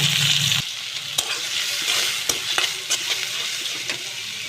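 Onion and ginger paste frying in oil in a pan for a hilsa curry, with a loud steady sizzle broken by repeated sharp clicks and scrapes of a spatula stirring close by.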